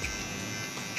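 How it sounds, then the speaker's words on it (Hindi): An electric hair trimmer buzzes steadily at close range, run along a comb during a step-by-step haircut, with a constant whine and no talking. "आप ट्रिमर को ऐसे चलाओगे कंघे को लगाकर"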